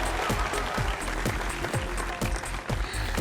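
Audience applause at a male pageant awards show, a dense, steady wash of clapping from a large crowd with rhythmic music thumping underneath, loud and continuous for the whole stretch.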